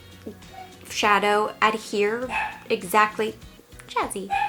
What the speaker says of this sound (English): My apologies if you hear my dog barking